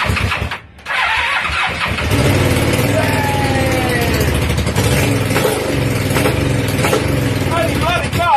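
A classic Kawasaki ER250 motorcycle, idle for fourteen years, cranks and fires up, its engine catching and settling into a loud, steady running note with revs rising and falling, close to the microphone, with a voice heard over it.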